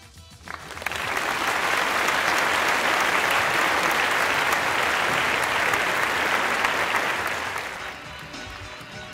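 A theater audience at a holographic hypnotist show breaks into loud, sustained applause that swells quickly, holds steady for several seconds, then tapers off.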